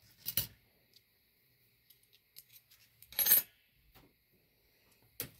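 Scissors snip through paper in a few short, sharp bursts separated by quiet pauses, close by, with small clicks between the cuts and no talking.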